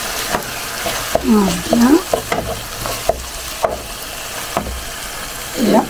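Tomatoes and onions cook in a pan with a soft, steady sizzle, broken by several sharp scrapes and knocks of stirring; a voice speaks briefly near the start and again at the end.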